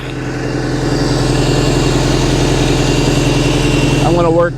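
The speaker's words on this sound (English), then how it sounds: "I can hear the pump whining a little bit." A boat's power steering pump runs with a steady engine drone and a thin whine over it, holding at an even level throughout, with a brief rising tonal shift near the end.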